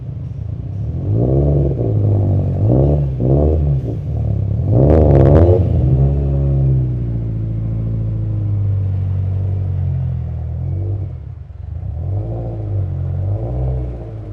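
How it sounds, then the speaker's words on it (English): Stage 4 Subaru WRX STI revving on a dyno, a loud engine climbing through rising revs in repeated sweeps, with a sharp peak around the middle before settling into a steady, lower drone. "I tested the car myself on the dyno."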